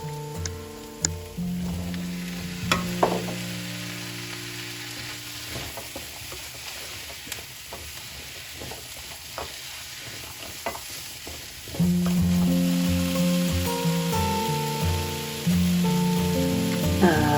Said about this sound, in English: When onion sauteed already, then we can add sweet potatoes and potatoes, and then let it cook for a while.